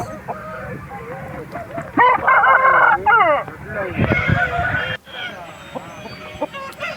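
A fifteen-month-old red peacock-coloured rooster at the Nallapadu poultry market clucks and gives throaty calls in loud bursts, with short crowing-like phrases amid background market noise.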